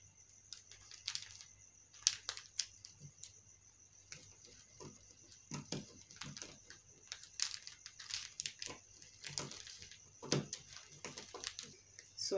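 Scissors cutting fabric along a sewing pattern for a child's ball gown, quiet close snips and crinkling rustles in irregular bursts, with some faint breathy speech-like sounds between.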